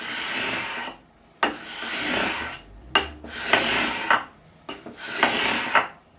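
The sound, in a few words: leveling guitar frets with 400 grit sandpaper on radius block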